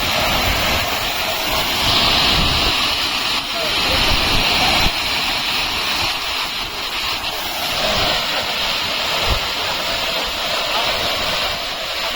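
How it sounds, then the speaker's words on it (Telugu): Water spray from the Madhavaram waterfall in a forest area near Palamaner patters steadily and loudly onto a nearby camera, a continuous broadband rush with brief stronger bursts throughout. "సో ఫ్రెండ్స్ ఇది మన మాధవరం వాటర్ ఫాల్స్"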